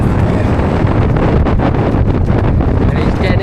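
Strong, relentless wind roars and buffets the microphone on the Tama Lakes Track in Tongariro National Park, a dense continuous rumble with gusting surges and no voices.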